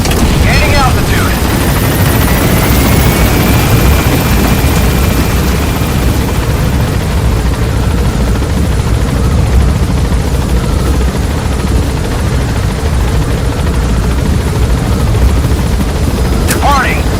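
Military helicopter lifting off in Metal Gear Solid V, a steady loud rotor and engine roar filling the whole stretch, with faint distant booms and gunfire mixed in beneath.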